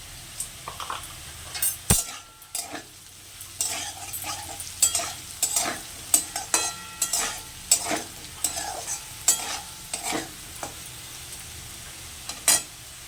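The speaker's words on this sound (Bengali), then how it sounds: "আলুটা আমার ভাজা ভাজা হয়ে গেছে" Potatoes with turmeric frying in a pan, a low sizzle under frequent clinks and scrapes of a metal spoon stirring against the pot in an irregular rhythm, close and clear with no voices.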